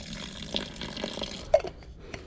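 Water mixed with pineapple mango drink powder is poured from a bottle into a bowl of carp bait mix outdoors, giving a steady soft splash and gurgle with a few sharper glugs and drips.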